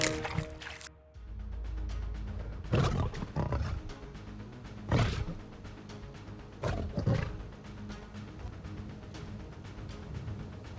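A lion roars on the African savanna in a few loud, deep bursts spaced a couple of seconds apart, each swelling and fading, with quieter low rumbling filling the gaps between them.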